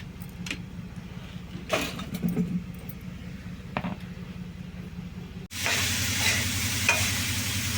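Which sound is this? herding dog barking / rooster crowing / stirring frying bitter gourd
stirring frying bitter gourd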